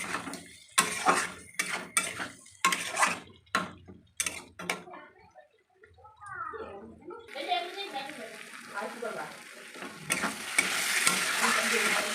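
Spices and potatoes fry in oil in a pan with a bright crackling sizzle, broken by clinks of a spoon stirring against the pan, while a voice talks over parts of it.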